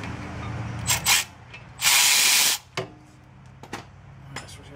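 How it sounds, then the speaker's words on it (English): Ratchet working on rear brake caliper bolts, short bursts of close clicking, including one longer run of rapid clicks, with small metallic taps between. "I did break the caliper bolts loose."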